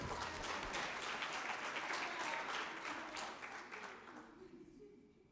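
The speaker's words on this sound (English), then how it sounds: "Ladies and gentlemen, clap hands for yourselves, please, if you may." An audience at a conference applauds steadily, a dense wash of clapping that tapers off toward the end.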